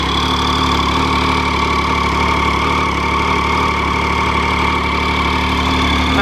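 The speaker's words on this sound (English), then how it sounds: "That's what a standard street triple sounds like." A standard Triumph Street Triple motorcycle engine idling close by, a loud, steady, even burble that holds unchanged throughout with no voices.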